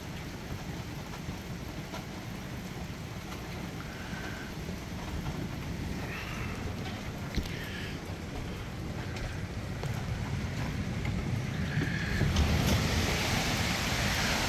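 Heavy rain falls during a severe thunderstorm at a camp, a steady broadband hiss heard through an open sliding door that swells louder toward the end, with no talking.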